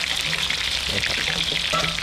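Battered fresh shrimp fry in a pan of oil in a backyard kitchen, a dense, steady crackling sizzle close up, with faint talk underneath.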